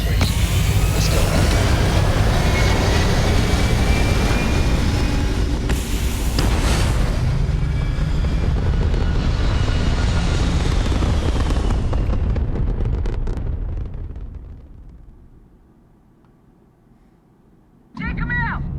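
Spaceship engines in the game Starfield roar during liftoff, a loud, dense rumble that holds for over twelve seconds before fading almost to silence, then a brief burst of other sound returns at the end.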